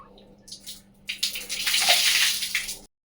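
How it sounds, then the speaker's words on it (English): Water pours onto a ball in a bottle during a science experiment, starting as faint trickles, then swelling into a loud, steady rushing splash before cutting off sharply. "When the water was flowing on this ball, it was exerting a certain force"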